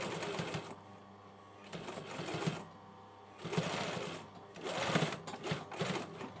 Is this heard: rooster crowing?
no